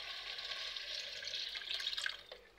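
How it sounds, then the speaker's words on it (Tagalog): Water is poured into a pan of sardines being cooked with malunggay, a steady splashing stream lasting a couple of seconds that grows more bubbly and uneven before stopping. "So, lagyan natin ng tubig."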